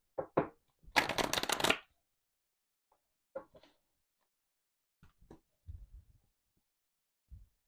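A tarot card deck riffled and handled close up in a quiet room: one dense shuffle burst lasting about a second, followed by soft scattered taps and card slides.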